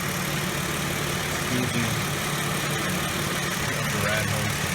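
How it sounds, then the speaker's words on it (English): Mercedes W163 ML320 engine idling as it warms to temperature during a coolant change, a steady close rumble running throughout while a person talks over it. "I'm going to let the engine idle up to temperature."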